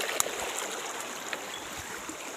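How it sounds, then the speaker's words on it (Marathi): Floodwater running along a stream beside farm fields, a faint, steady rushing wash with small trickling ripples and a couple of light splashes. "जेवढा पूर आलेला आहे ते त्याचं पाणी वाहणं चालू आहे"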